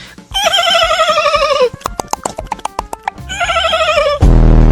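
A horse neighing loudly and close, two long quavering whinnies separated by a run of sharp rhythmic clip-clop hoofbeats, ending in an abrupt burst of low noise.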